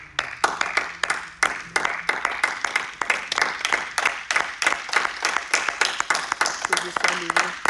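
A church congregation at a worship service claps steadily, a dense run of rapid hand claps filling the room, loud and continuous with a few voices mixed in.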